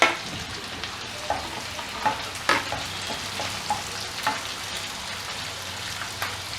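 Chopped onions, ginger and curry leaves fry in a pan with a steady sizzle and crackle, broken by occasional stirring scrapes and pops.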